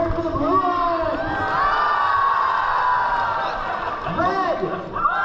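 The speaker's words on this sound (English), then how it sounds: "Who's cheering for the Blue Alliance?" Spectators at an FTC PowerPlay robotics competition, NorCal Regionals division finals, cheering and whooping in a big indoor crowd, steady and loud throughout, with a voice talking over the noise.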